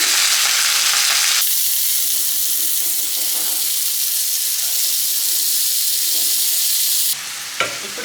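Soaked basmati rice fries with masala in a pan over a low flame, giving a loud, steady sizzle with stirring that stops abruptly near the end.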